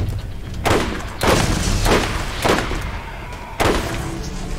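Gunfire in the Borderlands video game, five heavy booming shots at uneven intervals, each with a rumbling tail under constant low background game noise, loud and close, no talking.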